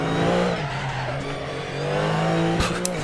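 Car wheelspin in a modded racing video game: a steady, loud engine drone with revving, then a couple of short tire-squeal bursts near the end.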